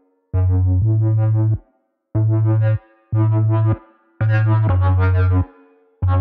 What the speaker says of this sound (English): Now I'll turn the resonance all the way down. You can hear how much less life this sound has.